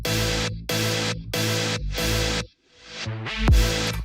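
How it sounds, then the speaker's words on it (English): A music track's reverb effect swelling in: sustained, loud chords ring in repeated blocks, then a drop to near silence before the sound rises back up in a gradual swell, with no voices. "here is the reverb swells coming into effect"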